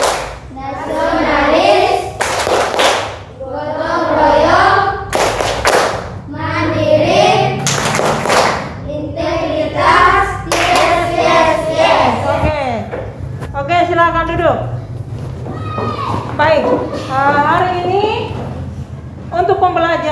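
Schoolchildren in a classroom performing the Tepuk PPK chant together, sharp unison hand claps in rhythmic bursts alternating with group chanting, loud and close throughout.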